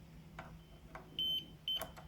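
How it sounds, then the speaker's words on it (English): A multimeter gives two short, high electronic continuity beeps while guitar wiring is tested, faint light tapping and handling noises between them in a quiet room. "the beeps do indicate a low impedance path, which is good."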